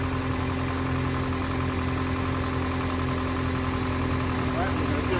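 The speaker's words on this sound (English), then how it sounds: "the engine noise is dying down because it's warming up" A 2008 Toyota Corolla engine idles while warming up, a steady, even hum with a low drone that holds constant and close throughout.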